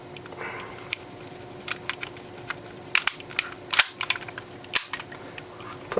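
A Tokyo Marui 1911 MEU airsoft pistol is reassembled by hand, giving a series of close, sharp metallic clicks and clacks at irregular intervals over a faint steady hum.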